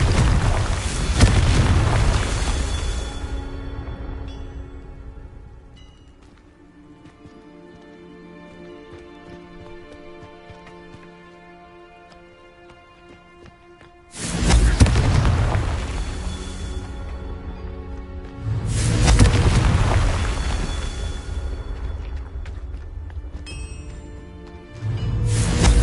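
Confringo explosion spells in Hogwarts Legacy, a video game, go off as loud booming blasts with rumbling decay, one at the start and two more around the middle and end, separated by quieter rumbling tails.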